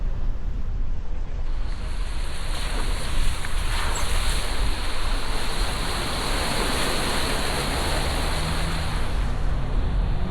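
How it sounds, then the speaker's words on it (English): A vehicle fords a creek on a dirt route through California's wilderness, giving a loud, steady rush of splashing water and road noise that carries on unbroken with no talking. "So we just went through 2 creek crossings."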